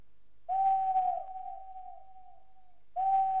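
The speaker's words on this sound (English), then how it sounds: "Owls are hooting." Owls hoot in a night forest in the video game Legend of Dragoon: one long, steady, wavering hoot that trails off, then another begins, fairly clear and alone.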